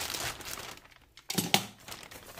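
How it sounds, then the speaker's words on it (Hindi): Logitech K230 keyboard and M235 mouse packaging being opened, with soft crinkling and rustling of cardboard and plastic, a brief tearing burst in the middle, fairly close and moderate in level. "तो ये पैकेजिंग खोल के देखते हैं कैसा होता है"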